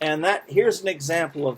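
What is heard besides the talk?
No everyday noise stands out behind the speech.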